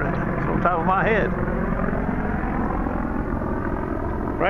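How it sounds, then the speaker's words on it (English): A helicopter flies overhead during outdoor metal detecting at a beach cave, a loud, steady low rotor drone running throughout, while a voice talks briefly near the start. "I hear a helicopter, but I don't see it."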